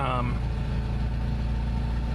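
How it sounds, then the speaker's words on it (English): A 1988 Toyota 4Runner's 22RE engine idles steadily and close, with an exhaust leak at cylinder 4 adding a constant rhythmic ticking puff to the low drone. "it's still got an exhaust leak on cylinder 4"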